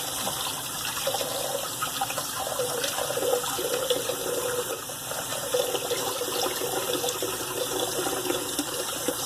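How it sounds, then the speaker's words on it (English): Tap water runs into a bathroom sink during a wet shave, a continuous close gushing and splashing that fills the whole stretch, with slight shifts as the basin fills. "oh, I forgot to fill my sink."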